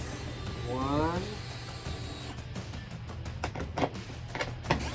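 A hand ratchet with a 10mm socket tightens wing bolts on a C7 Corvette, giving a run of quick clicking bursts in the second half after a brief whining sweep, with a voice counting along.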